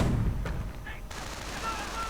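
An armored car's autocannon fires in a wartime strategy video game, a fast burst of rapid shots amid battlefield noise, followed by a sustained layer of distant combat rumble.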